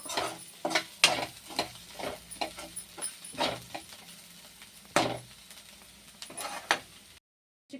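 Garlic frying in a pan, with a low sizzle under repeated sharp clacks of a spoon stirring against the pan, the clacks irregular and close.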